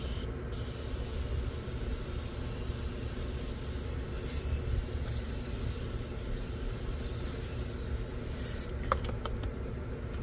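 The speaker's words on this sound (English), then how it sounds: "I'm gonna vacuum it with this." A vacuum cleaner fitted with a new vacuum head runs steadily inside the interior of a Nissan Xterra. It makes a continuous hissing, rushing drone that fills the whole stretch, with brief brighter surges of suction and no voices.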